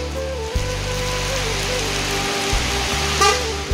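Rain falls steadily as a broad hiss around an idling bus, its low engine hum stopping and restarting, with a brief tone-like blip near the end.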